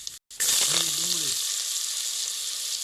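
Chopped onion dropped into hot oil with cumin bursts into a loud, steady sizzle right after a brief silence; a short voice is heard over the start of the frying, then the hiss continues on its own.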